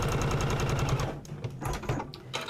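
A sewing machine stitches a receipt wallet in a quick rapid-fire burst of needle strokes. A pause and a few short stops and starts follow, close and clear with no talking.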